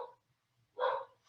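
Pet dogs bark indoors in a single brief, fairly loud burst, close by, with faint rumble before and a little noise trailing after.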